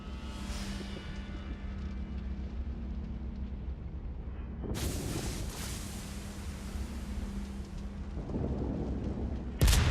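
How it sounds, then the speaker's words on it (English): Warship main guns firing in the naval video game World of Warships: two heavy booming salvos roll out a few seconds apart, each a loud broadband blast that decays into rumble, over a low steady engine and sea drone. "He fires off 2 guns at this Miyoko."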